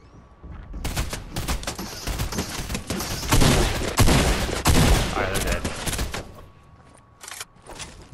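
Rapid gunfire from a Fortnite match, dense bursts of shots and explosions running loud and continuous for several seconds, with a man and someone occasionally talking over it.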